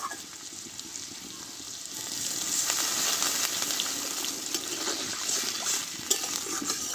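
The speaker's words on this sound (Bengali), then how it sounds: "এবার এতে আমি অল্প একটু জল দিয়ে দেবো।" Sautéed potatoes and peas sizzling in a pan as a little water goes in, a soft continuous frying hiss that swells slightly midway, moderately close and fairly quiet.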